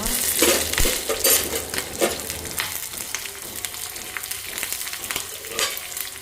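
Onions frying in a pan, a close steady sizzle with the scrape and clink of a spoon stirring at intervals, no talking.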